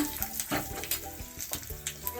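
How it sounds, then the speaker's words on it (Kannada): Hot tempering poured into a pumpkin, field bean and lentil dish sizzles steadily, with crackling pops and spits scattered throughout, close and fairly loud. "ಒಗ್ಗರಣೆನ ಇದಕ್ಕೆ ಹಾಕ್ತಾ ಇದ್ದೀನಿ"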